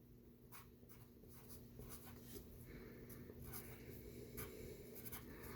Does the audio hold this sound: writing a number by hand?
yes